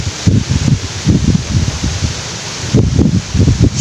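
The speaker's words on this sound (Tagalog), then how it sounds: "Grabe hangin." Strong wind buffets a riverside while someone fishes for tilapia, with loud gusty bursts of rushing, rustling noise pulsing in uneven waves against the microphone and no talk.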